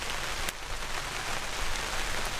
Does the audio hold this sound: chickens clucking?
no